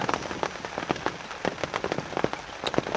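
Rain falls at a lakeside carp-fishing spot at St Ives Lakes, with irregular drops pattering and tapping close by on a surface, scattered sharper hits over a constant soft hiss.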